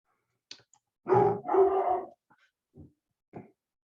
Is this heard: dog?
yes